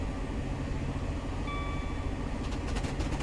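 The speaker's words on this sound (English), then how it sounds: "Oh, this is another freight train." A freight train hauling containers on the West Coast Main Line in Train Simulator Classic rumbles past in a dense, steady roar, with a brief tonal whine midway and rhythmic clacking toward the end.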